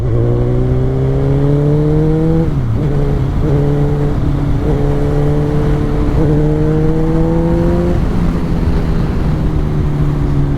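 A Kawasaki Ninja 1000 motorcycle engine revs loudly and close, climbing through the gears in several rising pulls, with brief dips at each shift before the pitch builds again.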